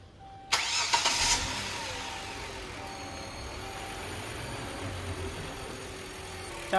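A car engine cranks and catches with a sharp burst, then settles into a steady, fairly quiet idle that runs on alone, the car being checked before a throttle valve cleaning.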